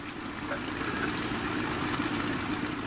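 A SPAD S.XIII biplane's aircraft engine in the Rise of Flight game warms up on the ground, a steady, close, low idling drone with a faint knocking roughness that holds evenly throughout.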